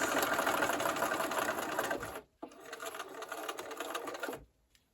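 A sewing machine stitches the seam of a granny square table topper, a loud continuous close-up whir that halts briefly midway, then resumes and stops.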